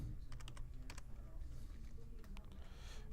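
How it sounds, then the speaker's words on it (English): Slow one-handed typing on a computer keyboard, with sparse, irregular key clicks heard faintly over a low background hum. "Pardon the slow typing."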